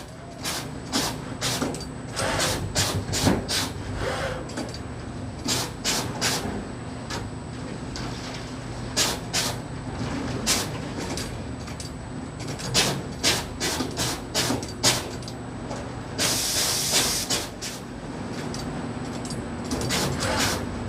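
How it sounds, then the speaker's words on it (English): Seedling tray patching machine pulling plugs from a donor tray and filling gaps in another tray, rapid repeated mechanical clacks and pneumatic hisses in steady bursts over a constant machine hum. "here we can see the machine pulling from the donor tray on this side and then patching into the tray on the opposite side"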